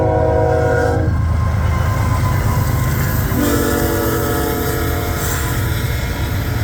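A freight train of grain hopper cars rolls past loud and close, with a continuous heavy rumble and steady wheel noise that runs through the whole stretch.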